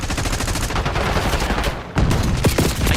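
Rapid automatic gunfire in a video game cracks out in dense, continuous bursts. A short break comes near the middle before a loud volley resumes.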